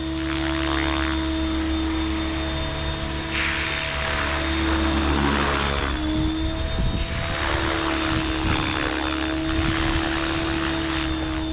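A Synergy 516 RC helicopter flies steadily on a check flight, its rotor whine and motor drone holding strong and continuous throughout with slight swells in pitch, close to the microphone and with no talking.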